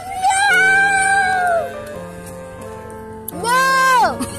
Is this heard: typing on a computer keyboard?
no